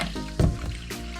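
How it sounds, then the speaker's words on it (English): Water is poured over uncooked rice and the grains are washed by bare hand, making a short, close wet sloshing and squishing with one fuller splash in the middle. "properly wash it by putting water over it"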